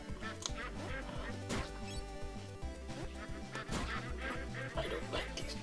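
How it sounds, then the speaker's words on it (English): Busy game audio from PewDiePie's Legend of the Brofist with music and effects, over which cartoonish quacks from many chubby ducks repeat in quick, scattered bursts. "Ducks! So many ducks!"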